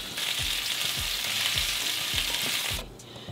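Jalapeños, serrano chiles, onion and garlic roasting in a hot pan, giving a steady, close sizzle with light crackles that drops away near the end, with no voices.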